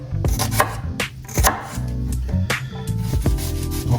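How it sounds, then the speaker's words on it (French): A knife slices shallots into thin strips on a cutting board, with loud, close, rapid chopping taps in uneven bursts that ring briefly against the board. "On va tailler les échalotes, on fait des petites lamelles comme ceci,"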